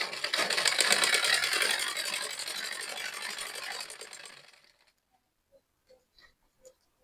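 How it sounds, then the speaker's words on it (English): A sewing machine stitches a Bubu dress with a cupped corset, running in a steady close buzzing whir for about four seconds before stopping, followed by a few faint clicks and handling taps. "Then you change, turn it like this, and then continue sewing."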